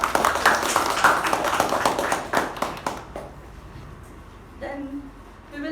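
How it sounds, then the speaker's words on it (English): Applause at a club meeting, a burst of many hands clapping together in a dense patter that fades out after about three seconds, followed by quiet room tone and a faint voice. "A round of applause."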